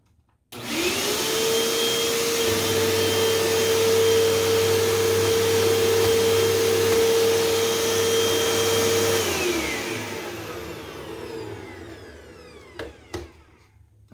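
A bagless upright vacuum cleaner runs steadily for about nine seconds with a loud, even motor whine, brush roll spinning above the carpet, then winds down and ends with a couple of sharp clicks.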